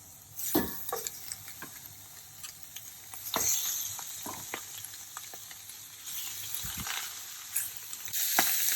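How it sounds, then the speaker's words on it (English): Chicken thighs sear in a hot iron skillet, giving a steady close sizzle with a few sharper pops and crackles scattered through it and no voices. "this pan is getting nice and hot. You wanna get them seared very well at the beginning."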